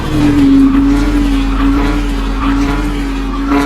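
A homemade race car drives with a steady engine drone and occasional tire noise, loud and close with no talk.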